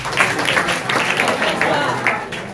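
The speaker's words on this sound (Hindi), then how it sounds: "ताली मारेंगे आप लोग" An audience claps together at a magic show led by magician Manoj Kumar, a steady run of bright, fairly loud hand claps in loose rhythm that fills the room.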